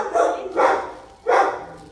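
A neighbor's dog barks three times in fairly quick succession: loud, sharp barks with a brief pause before the last, and no talking.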